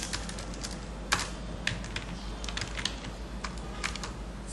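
Someone types a command into statistics software on a computer keyboard, producing a steady run of light, quick key clicks with a few sharper taps, close and fairly quiet.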